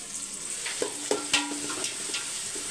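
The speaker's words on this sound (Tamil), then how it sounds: "ஒரு மூணு வெங்காயம் சேர்த்துக்கலாம் ரொம்ப வெங்காயம் வதங்கக்கூடாது பாதி தான் வதங்கணும்" Onions sautéing with cinnamon and cloves in a pan for a Chettinad rice dish, a low steady sizzle broken by a few sharp clinks and scrapes of stirring, close and moderately quiet with no voices.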